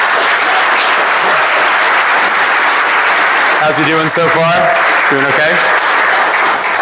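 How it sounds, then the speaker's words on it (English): Loud, dense applause from a DEFCON conference audience for a first-time speaker, continuous throughout, with someone talking over it partway through. "So a round of applause for our first time speaker."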